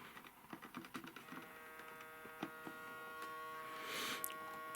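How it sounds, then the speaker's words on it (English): A Hornby R7229 train set controller gives off a steady electrical buzz under faint clicks and knob-turning taps, the hum rising slightly toward the end. "it makes a lot more noise. See, that buzz is horrible."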